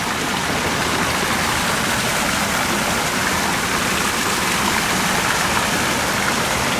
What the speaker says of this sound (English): I like how the water comes out of her hands.